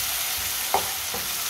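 Finely chopped tomatoes and green chilli cook in a pan with a constant, close sizzle, broken by a couple of quick stirring taps.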